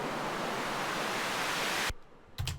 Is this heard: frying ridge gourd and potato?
no